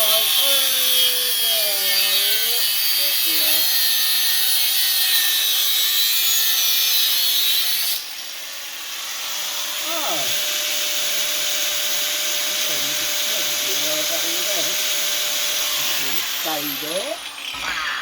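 A power tool cuts a part off a grab with a steady, close, high-pitched grinding whine that shifts pitch and drops in level partway through, while someone talks over it.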